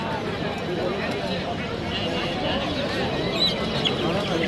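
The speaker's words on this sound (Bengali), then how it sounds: "এইখানে আছে হচ্ছে গিয়া মুরগি" Chickens cluck at a busy poultry and pigeon market in Putia Bazar, Narsingdi, their scattered calls faint under talking voices and the general crowd noise.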